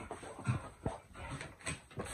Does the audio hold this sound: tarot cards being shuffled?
no